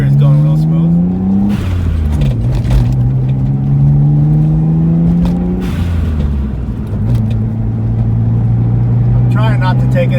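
Mitsubishi VR4 running on E85 ethanol, its engine pulling up through the gears, the pitch climbing in long sweeps between shift breaks, loud and close from inside the car, with someone talking over it.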